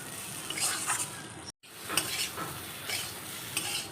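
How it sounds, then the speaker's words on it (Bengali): Raw rice is lightly fried pulao-style in a pan for a rice-and-pointed-gourd dish, with a soft sizzle under repeated scraping strokes of a spoon. The stirring comes in a steady rhythm, broken by a brief silent gap. "পোলাওয়ের মতো করে চালটা একটু ভেজে নেব"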